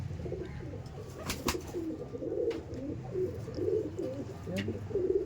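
Pigeons in a breeding loft in Behala coo repeatedly in soft, throaty, overlapping phrases close by, with a few sharp clicks and faint background voices.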